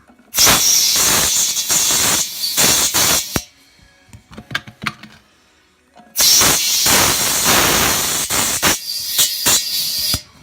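Compressed air hisses loudly and steadily into a car tire through a cheap replacement valve stem, two long bursts of several seconds separated by a quiet gap filled with faint clicks and fumbling, close up with no talking.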